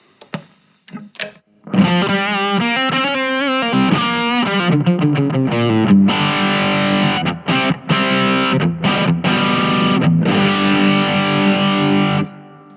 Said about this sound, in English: or to an overdriven sound like this